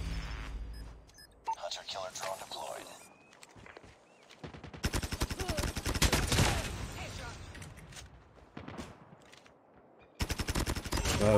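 The Bizon submachine gun in COD Mobile fires in long rapid automatic bursts, loud and close, broken by short pauses, with footsteps and someone talking excitedly between volleys.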